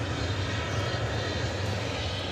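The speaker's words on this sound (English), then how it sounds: "This one's going to be an Embraer 175" An Embraer 175 jet airliner at DFW Airport gives a steady, loud, broadband engine roar that holds evenly throughout with no break.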